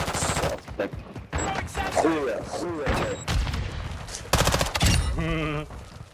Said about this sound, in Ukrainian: Зліво постріли, мабуть, на магазин.